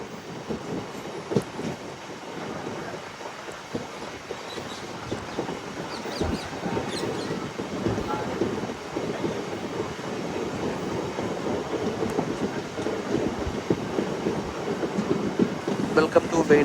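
A MEMU passenger train on the Bhimavaram Junction to Nidadavolu line rolls along the tracks with a steady, close rumble and rhythmic wheel clatter throughout, with faint voices in the background.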